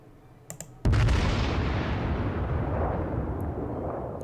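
A battleship shell slamming into an enemy citadel in the naval game World of Warships: a few small clicks, then one loud sudden blast whose rumble slowly fades.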